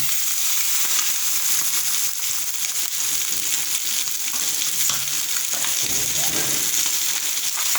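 Konro soup ingredients sautéing in a hot pan, a loud continuous sizzle and crackle with stirring scrapes throughout, close up, briefly changing near the end.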